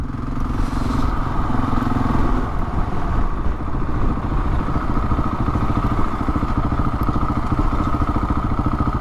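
Husqvarna 701 Enduro motorcycle rolling at slow speed, a steady close single-cylinder engine drone with continuous rumble and light clatter throughout, no talking.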